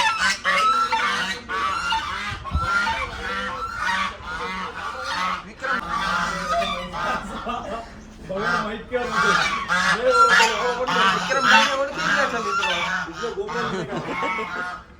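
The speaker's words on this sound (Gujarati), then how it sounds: "બતક પણ છે." Ducks honk repeatedly and loudly at a hotel, a dense, overlapping chorus of calls that runs throughout, with some faint talking mixed in.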